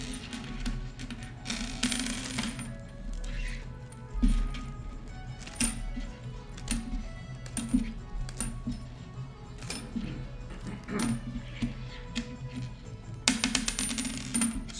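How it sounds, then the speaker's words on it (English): Alpha Cool PC case screws are handled, and small metal screws clink and rattle together in frequent light chinks, sometimes in quick clusters, close up and with no speech. "So these are all Alpha Cool screws here."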